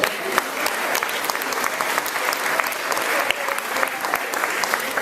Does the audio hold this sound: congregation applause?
yes